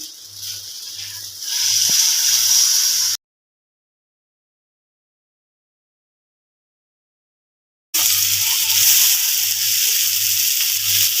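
Leftover dal pancakes frying in a pan: a steady hiss and sizzle with faint rhythmic low ticking, broken by a few seconds of complete silence before the sizzling resumes.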